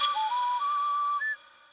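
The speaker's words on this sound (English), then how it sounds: "the whistling backwards is really nice" A short whistled melody from the game Sprunki played in reverse, a few clear sliding tones stepping up and down with swelling onsets, alone and moderately faint before cutting off.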